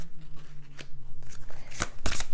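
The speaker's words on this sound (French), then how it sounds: "Donc je vais tirer les cartes." Oracle cards shuffled and drawn from a deck, a run of close, crisp riffling flicks and slaps that grow louder toward the end, with no talk.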